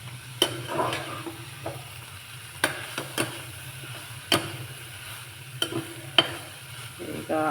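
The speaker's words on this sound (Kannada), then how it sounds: "ಸೊಪ್ಪು ಮತ್ತು ಕಾಳನ್ನು ಹೇಗೆ ಹುರಿಯೋದು ಅಂತ" Greens and legumes fry in a pan under a low, steady sizzle, while a spoon stirs and taps the pan in irregular sharp knocks and scrapes, close up with no talking.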